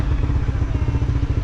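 Honda CBR250R motorcycle engine running steadily while riding, a close, continuous throbbing low rumble with a rapid pulsing beat and no break.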